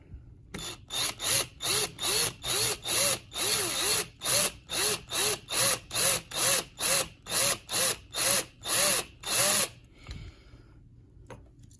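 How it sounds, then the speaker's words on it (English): Repeated short bursts of a power drill biting into a die-cast metal 1/64 scale model car, about sixteen quick pulses with brief pauses between, close up, then stopping. "we're gonna keep drilling a little bit more"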